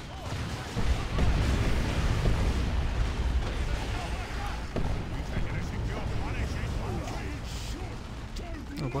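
A tank firing in Warhammer 40k: Dawn of War 2 during an Ork campaign battle, with steady heavy booms and explosions rumbling throughout and a voice talking over the din.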